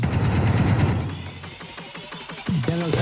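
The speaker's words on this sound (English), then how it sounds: "can you fire your weapon into the ceiling, please?" A gun fired into the ceiling in a VR courtroom game lets off a rapid burst of loud shots for about a second, followed by softer clattering and a voice speaking briefly at the end.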